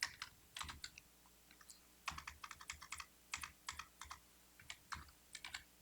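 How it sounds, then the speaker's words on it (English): Quiet, close typing on a computer keyboard while filling in a form, with bursts of rapid key clicks separated by short pauses and occasional heavier thumps, without any talk. "each time I'm typing in here"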